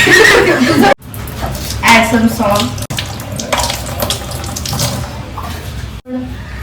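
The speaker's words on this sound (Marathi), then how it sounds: "मी इथं डाळ धुत आहे बघा. अशा पद्धतीने डाळ धुवायची असते." Water runs steadily from a tap into a sink as lentils are washed, splashing and trickling while a voice talks over it, with a couple of brief pauses in the flow.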